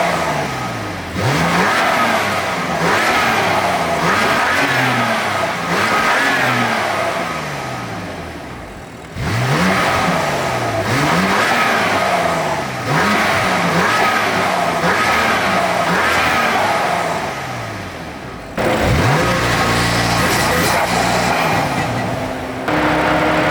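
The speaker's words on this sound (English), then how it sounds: "the carbon fiber makes a lot better noise, and the intake system is just 10 times better than the stock ones" A BMW F80 M3 fitted with carbon fiber intakes revs hard in repeated bursts, the engine climbing and dropping in pitch several times, loud and close, with brief pauses between runs.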